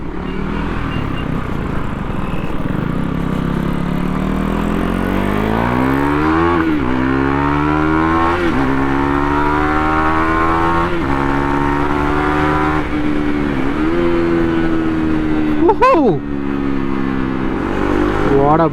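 A KTM Duke 390 motorcycle engine runs loud and steady while riding, with repeated rising revs through the gears and brief throttle drops, plus wind rush throughout.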